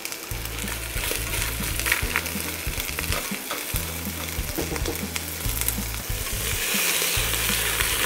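Champagne risotto with langoustines cooks in a pan over very high heat, giving a steady, loud sizzle and crackle with intermittent stirring scrapes, with no talk.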